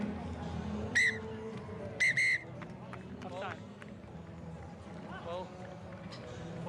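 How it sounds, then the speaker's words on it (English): Referee's short whistle blasts at a rugby match between Free State Cheetahs and Griffons, two or three sharp bursts over steady crowd hubbub and a commentator's voice. "The halftime whistle blows."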